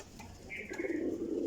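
Pigeons coo in low, rolling murmurs that swell and hold steady near the end, close by and moderately loud, with a brief higher chirp in the middle.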